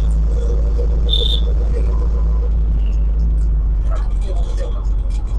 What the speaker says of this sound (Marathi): आणि रिक्षा करून घरी चाललेलो आहे